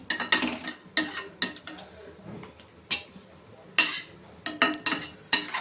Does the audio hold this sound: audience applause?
no